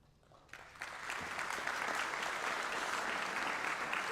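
Audience applause at an ROTC commissioning ceremony, starting faintly and swelling within a second into steady, even clapping that continues to the end.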